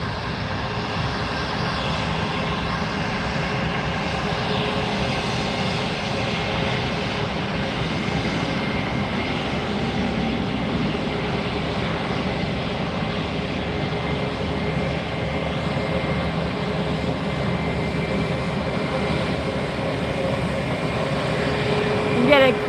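A JetBlue airliner in a vacation special livery passes close by at Fort Lauderdale airport, its engines giving a steady, broad roar for over twenty seconds while someone talks over it.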